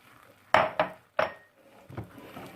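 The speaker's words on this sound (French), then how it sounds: "Et on va bien mélanger rapidement, de manière à assécher la pâte." Quick, sharp knocks of a spoon or spatula in a pot as 250 g of flour is stirred fast into boiling water for churros dough, three loud clacks followed by softer scraping.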